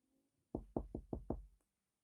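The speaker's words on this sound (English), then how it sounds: "The Pied Piper knocked again" Five firm knocks on a wooden door in quick, fairly even succession, close and clear against a quiet background.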